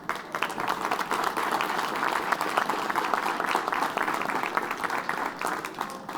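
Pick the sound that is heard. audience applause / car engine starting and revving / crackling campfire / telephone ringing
audience applause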